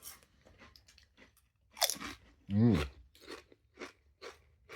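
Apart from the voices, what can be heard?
chewing crunchy kettle-style potato chips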